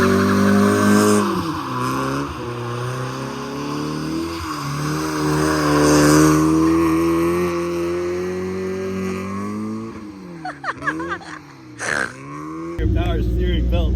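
A stanced car does donuts, its engine revving in a sustained roar with tire squeal and skidding, then sputtering near the end while people shout and talk over it.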